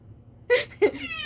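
A pet cat named Albion lets out two short, close meows about a third of a second apart, with a faint trailing mew after them and no speech.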